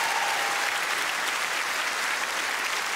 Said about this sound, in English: Round of applause for the fantastic lady.